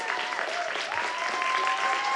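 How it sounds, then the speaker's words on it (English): Theatre audience at a 2025 stage performance claps steadily throughout, a dense continuous wash of applause with faint whoops and a voice barely audible over it. "give them a big round of applause for everything they've done"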